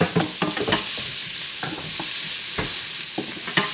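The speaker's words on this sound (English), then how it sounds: "Alright, so we're going to add some onions. Then we're just going to cook that down." Onions sizzle steadily in melted butter while a utensil stirs and scrapes the pan in sharp, irregular clicks, close and fairly loud, with no talking.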